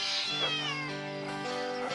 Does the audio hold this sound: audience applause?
no